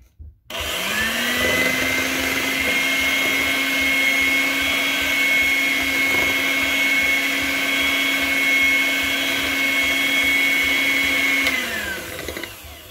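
An electric hand mixer whirs steadily while blending milk into apple cake batter, a loud close motor drone that starts abruptly, holds an even pitch for about eleven seconds, then winds down, with no talking.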